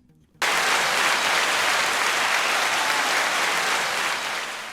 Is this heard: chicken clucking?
no